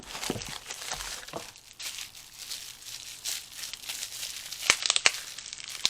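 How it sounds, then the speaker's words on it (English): Coin packaging being unwrapped by hand: continuous close crinkling and tearing of plastic wrap, with a few sharper crackles near the end and no talk. "Let's do some more unwrapping."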